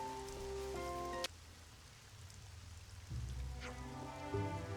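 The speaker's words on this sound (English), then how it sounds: "It's actually raining." Rain falls in the video game Xenoblade Chronicles 3, a soft steady patter under tonal game music that cuts out briefly in the middle and then returns.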